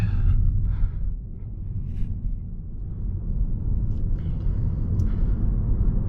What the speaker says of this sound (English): Accelerate up to 40 kilometers an hour.